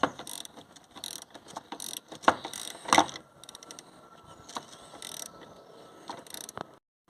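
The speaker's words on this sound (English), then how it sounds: "18mm flexible head ratchet" Ratchet wrench, an 18mm flexible-head type, working a bolt on the front McPherson strut suspension of a Vauxhall Corsa D, giving close, quiet bursts of rapid clicking with metallic taps and a few louder clunks.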